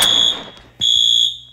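A pulled fire alarm in the Roblox game ERLC blares in two loud, piercing electronic tone bursts separated by a short gap, with no speech.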